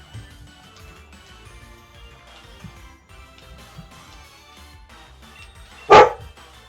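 A house dog gives one sharp, loud bark near the end, wanting to be let outside, after a stretch of quiet indoor background.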